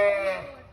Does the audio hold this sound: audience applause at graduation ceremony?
no